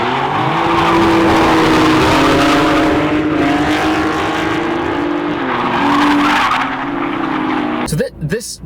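A BMW drifts at Crail Raceway in Scotland, its tyres skidding in a long loud squeal over a strained, revving engine, the note wavering through the slide before the car passes and the sound drops away abruptly.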